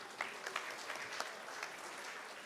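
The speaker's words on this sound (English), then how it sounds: "Let's give that lady a round of applause." An audience at a book café event gives soft, distant applause, a quiet patter of many hands with a few sharper claps standing out, lasting a couple of seconds without talk.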